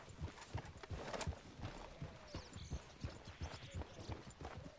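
Rhythmic clip-clop of a horse's hooves as it is ridden along a trail in Red Dead Redemption 2, steady and close, with faint game voices and ambient sounds underneath.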